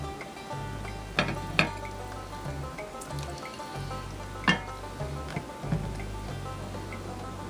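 Pork simmers and sizzles in a pot on medium heat, a soft steady bubbling hiss broken by a few brief clinks and knocks.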